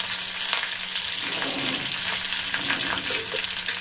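Curry leaves and chopped green chilli with white sesame seeds crackle and sizzle steadily in hot oil for poha, a dense continuous frying hiss with scattered pops and a light stirring clatter, no voices.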